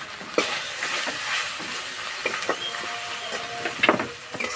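Ground cumin, turmeric and chili powder sizzle in a pan as a spoon stirs them, a steady close frying hiss broken by scraping strokes.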